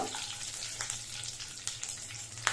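Cumin seeds fry in hot oil for a spicy chilli chicken gravy, giving a close, steady sizzling hiss with small scattered pops and crackles and no voices.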